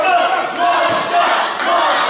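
Wrestling crowd at a caged weapons match cheering and chanting steadily, a dense wash of many voices that swells and dips slightly but stays loud throughout.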